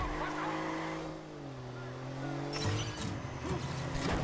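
In the video game Watch Dogs, a car engine hums and rises in pitch as it drives off, then tires squeal and skid in short bursts while someone talks over it.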